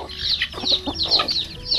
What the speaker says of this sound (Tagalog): Ating mga chicken.